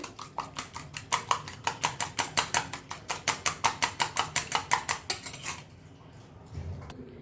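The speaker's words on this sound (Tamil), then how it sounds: "இப்போ முட்டையை நல்லா அடிச்சுட்டு" Eggs beaten briskly in a bowl for an omelette, a fast steady run of utensil clicks against the bowl for about five seconds, close and clear, then stopping into quiet.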